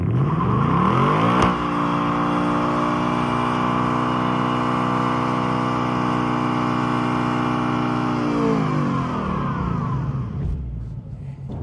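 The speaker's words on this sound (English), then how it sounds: "What we're going to do first is warm up the rear tires with line lock." A 2025 Ford Mustang GT holding a line-lock burnout to warm its rear tires, the engine droning at steady high revs for about nine seconds before the revs fall away, loud and close, with no voices.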